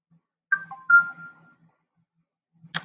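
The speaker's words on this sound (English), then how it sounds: "Sorry, that was my phone that you just heard." A mobile phone ringtone chiming briefly nearby, a few short melodic tones followed by a sharp click, with near silence around them.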